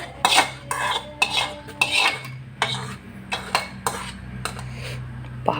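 Mango halwa is stirred in a pan, with a series of distinct metal scrapes and clinks from the spoon against the pan, loud and close at first and then softer and more spaced, with a low steady hum underneath.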